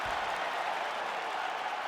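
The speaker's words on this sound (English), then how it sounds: "Stand and cheer, ladies and gentlemen." Virtual arena crowd in EA Sports UFC 5 roars and claps at the end of a full five-round fight. The noise is a dense, steady wash of cheering and applause throughout, with no clear voice over it.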